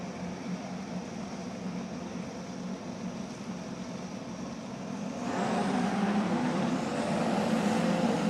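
Race cars at Fuji prepare to head out for a qualifying session of the 6 Hours endurance race, with a steady engine drone from the pit area that swells louder partway through as revs rise.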